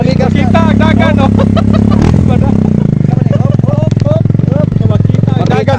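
A motorcycle engine runs steadily and loudly close by, with a brief shift in its tone partway through, while someone talks over it throughout.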